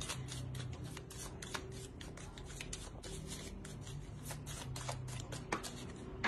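Tarot cards are shuffled and drawn in a rapid, continuous flutter of papery riffles and slides, close and soft, steady throughout with no talk.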